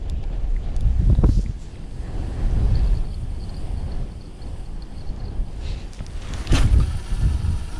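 Steady outdoor wind at an autumn fishing spot buffets the microphone with low rumbling gusts that rise and fall throughout.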